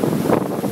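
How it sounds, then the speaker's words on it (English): Strong wind buffets the microphone at sea aboard a sailboat in a Pacific race, a loud, rushing roar with waves washing underneath, lasting under a second. "Pretty windy out here."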